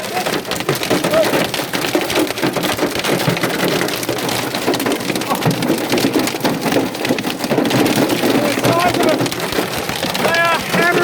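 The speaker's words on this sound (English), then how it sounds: "It's starting to rain pretty hard now." Heavy rain pelts down outdoors with marble-sized hail hammering the ground and nearby surfaces, a loud, constant dense patter with sharper impacts scattered through it, and people talking over the downpour.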